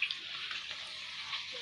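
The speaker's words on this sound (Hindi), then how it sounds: "अरे बेटा एक बोतल पानी भर लिया" Water runs steadily from a tap into a bottle, a continuous hissing pour with no talk.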